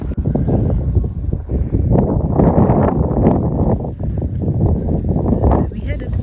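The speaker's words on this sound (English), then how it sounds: "It's very windy too." Strong wind gusts buffet the microphone on a hike in the bundu, a steady low rumble surging and easing throughout with brief voices underneath.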